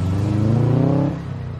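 A Subaru Impreza WRX four-cylinder engine revs loudly up close in a short burst, then drops back to a low idle rumble.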